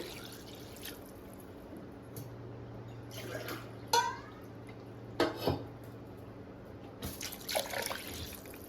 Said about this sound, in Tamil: நம்ம வாட்டர் ஆட் பண்ணிக்கலாம்